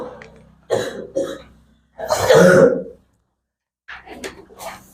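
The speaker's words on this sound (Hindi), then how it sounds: "हमको भी खांसी हो गया है" A teacher gives a few harsh coughs close up during a math class, one after another, including a longer raspy coughing fit in the middle.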